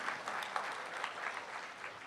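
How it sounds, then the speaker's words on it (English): Audience at a music academy recital applauding young musicians after their performance, a steady, moderately faint patter of many hands clapping in a hall. "Please give them a big round of applause."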